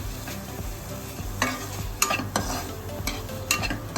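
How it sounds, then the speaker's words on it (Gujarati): Raw chopped capsicum sautés in a pan for veg Hyderabadi biryani, a steady close sizzle broken by repeated scraping, clattering stirs of a spoon against the pan, with no voices. "તે એડ કરશું આપણે એને બે મિનિટ માટે આપણે સાતરી લેશું"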